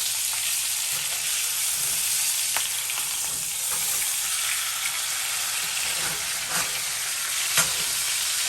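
Thick marinated steak sizzling steadily in a hot pan, a continuous bright frying hiss with a few soft clicks as it is flipped with a chopstick.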